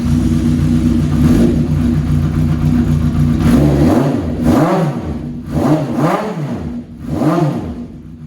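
A 1981 Honda CB750 motorcycle with a 4-into-1 exhaust idles loudly, then gives four sharp throttle blips that rise and fall in pitch over the last half before settling back to a rumbling idle.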